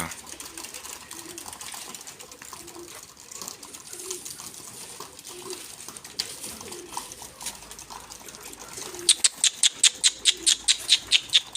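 Released pigeons coo softly in a low, repeating pattern under faint background noise, then a rapid series of sharp rhythmic taps or wingbeats closes the stretch, with a person speaking intermittently nearby.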